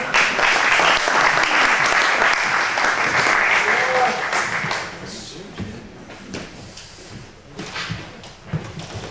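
An indoor audience at a stage show claps loudly for a performer coming on stage. The applause is dense for about five seconds, then thins out into scattered claps and dies away.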